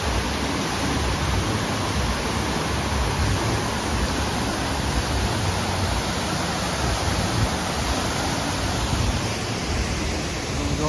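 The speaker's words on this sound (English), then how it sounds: "Absolutely stunning waterfall display." Steady roar of falling water from the waterfall display at the Wynn in Las Vegas, a dense continuous wash of noise with no other sounds standing out.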